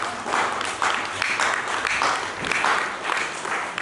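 A church congregation breaks into sustained applause, dense and steady clapping from many hands filling the room for several seconds.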